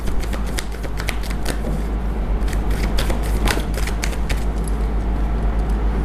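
Tarot cards being shuffled and drawn during a reading: a steady run of crisp, papery riffles and snaps, close and fairly loud, with sharp flicks scattered through it.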